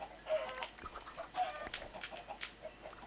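Flock of chickens clucking in Minecraft, several short blocky clucks at moderate volume spread across a steady game ambience, with no talking.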